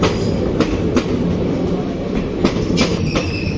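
A train passes through the station with a steady heavy rumble and a series of sharp, irregular wheel clacks over rail joints, up close and with no voices.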